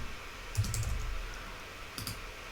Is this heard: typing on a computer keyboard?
yes